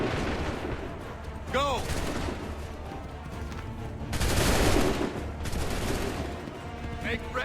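Musket volleys crack out in an Assassin's Creed 3 battle, a dense, loud burst of gunfire rising near the middle and a lighter spread around it, with shouted commands and voices over the din.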